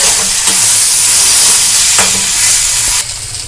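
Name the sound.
stirring and frying lentil filling with spices in pan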